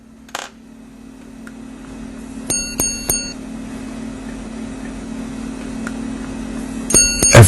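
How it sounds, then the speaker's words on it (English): A Glashütte Original chronograph triple repeater strikes its gong, forged from one piece of metal, with a few bright metallic chimes, one early, a pair near the middle and a cluster at the end, over a steady mechanical hum. "After counting down a pre-selected time interval, a triple repeater sounds, engineered by a gong fashioned from one piece of metal"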